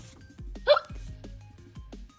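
A voice imitates an elephant's hiccups during a read-aloud children's story, giving one sharp, loud hiccup burst in the middle among softer voiced sounds.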